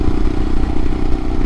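A 2022 Royal Enfield Himalayan single-cylinder motorcycle fitted with a Hitchcocks carburetor conversion, running loud and close with a rough, steady low-pitched engine throb and mechanical clatter, no talking.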